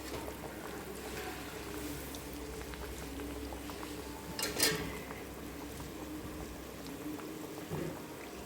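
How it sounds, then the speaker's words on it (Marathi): Cabbage vadas deep-fry in hot oil, giving a steady, even bubbling hiss that runs throughout, close and quiet, with a brief louder crackle midway. "आता हे तळायचा."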